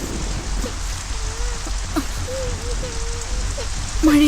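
Heavy rain falls in a steady hiss throughout, with faint voices and calls in the background and a louder voice at the end.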